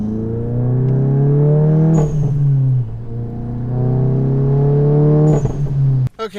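A VW MK7 GTI with an APR Stage 2 exhaust revs loud and close, its engine note rising and falling between two sharp throttle blips, then ending in crisp pops and bangs.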